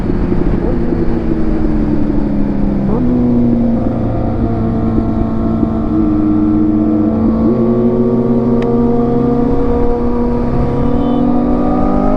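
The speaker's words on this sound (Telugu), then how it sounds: "సివిఆర్ 650F గుంజి పడేస్తున్నాడు అసలు" Honda CBR650F motorcycle accelerating hard on a traffic-filled road, heard as a loud, sustained engine drone whose pitch climbs steadily through the gears, recorded close from a following bike with constant wind noise.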